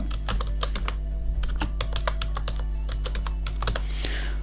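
A computer keyboard clatters as a Linux terminal command for data recovery software is typed, with a quick run of crisp, close keystrokes in an uneven rhythm over a steady low hum and no talking.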